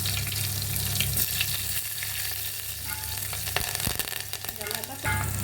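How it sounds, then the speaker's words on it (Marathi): Curry leaves and green chillies sizzle and crackle loudly in hot oil for a tempering, a continuous frying hiss with sharp spattering pops and occasional stirring. "कढीपत्ता टाकूयात."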